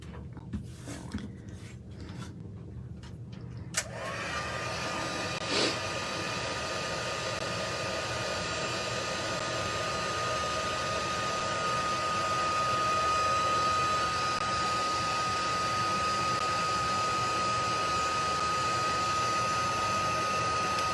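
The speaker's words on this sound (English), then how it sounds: "It takes a few seconds for that embossing powder to start melting." A handheld heat tool blows a steady, loud hot-air whoosh to melt embossing powder for a papercraft silhouette, starting with a click after a few seconds of quiet handling noise and then running continuously.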